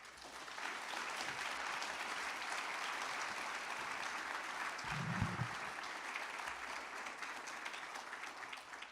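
Steady, sustained applause fills a medical school white coat ceremony hall, a large audience clapping evenly and at a moderate distance, with a low thump partway through.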